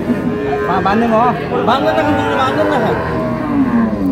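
A dairy cow lows repeatedly in short, wavering moos at a busy village cattle market, close and loud, with crowd chatter and voices murmuring in the background.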